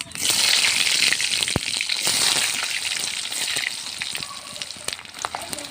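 Garlic and onion sizzle steadily in hot oil for a prawn-and-jackfruit dish, a dense continuous frying hiss with a few sharp crackles and pops, fairly loud and close, faintly settling toward the end.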